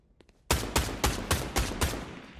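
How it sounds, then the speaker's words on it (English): A new video game gun fires six loud, sharp shots in a quick, fairly even rhythm, each with a short ringing tail, after a few faint clicks in near silence. "Is that the new gun? That must be the new gun, isn't it?"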